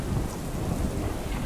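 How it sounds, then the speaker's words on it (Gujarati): Heavy monsoon rain pours down in Amreli during the season's first downpour, a dense, steady roar of rainfall that fills the whole short stretch with no voices. "ભારે વરસાદ અહીંયા પડતા"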